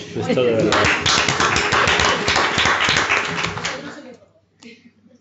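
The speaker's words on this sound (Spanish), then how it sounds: "Te mereces un aplauso." A room of people applauds after a talk, with dense, steady clapping for about four seconds that fades out, followed by a few isolated claps.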